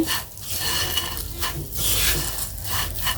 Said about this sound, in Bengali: জালটা খুব আস্তে দিয়ে ভালোভাবে ভেজে নিচ্ছি